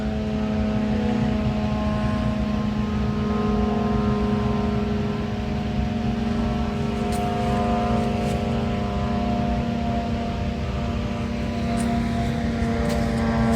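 An aircraft circling overhead gives a continuous steady drone with a firm low hum, persisting unbroken throughout at moderate loudness with no voices.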